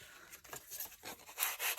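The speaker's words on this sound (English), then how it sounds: "I'm just going to use my sanding block" Soft, close rasping strokes of a sanding block rubbed back and forth across fluffy scrapbooking paper, quiet and irregular, growing slightly louder toward the end.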